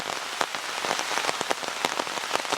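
Steady rain shower pattering on an umbrella during an outdoor nature walk, a dense continuous hiss broken by louder, sharper drops striking close overhead.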